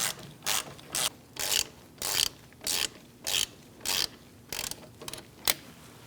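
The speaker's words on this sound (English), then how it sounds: "Once you get those started, you can move on to tightening them down, and then we're going to torque them to 20 foot-pounds." A hand ratchet tightening front brake bolts on a 2000-2006 Mini Cooper: about ten close, regular bursts of rapid pawl clicking, each about a third of a second long with short pauses between.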